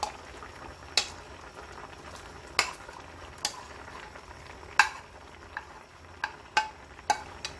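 Dongtae-jjigae, a pollock stew with onion and green onion, bubbles in a pot with irregular soft pops and a few sharper clicks over a low simmering hiss, fairly quiet and with no voices.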